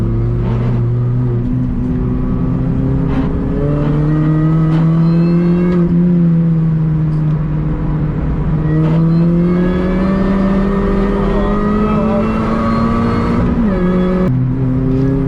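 A 2000s R53 Mini Cooper S supercharged engine revs hard on a wet Oulton Park track, rising and falling in pitch as the wheels spin and the car slides, loud and continuous from close range.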